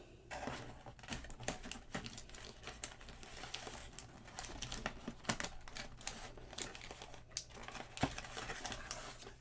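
A Flesh and Blood trading card pack crinkles and crackles as it is pulled from the bottom of its box, with dense rustling and sharp irregular snaps running continuously, close and fairly loud.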